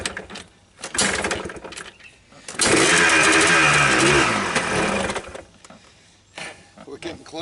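A 1999 Yamaha Blaster engine sputtering and briefly catching during a failed first start, close and loud, a few seconds of ragged revving that dies off, with short bursts of cranking around it.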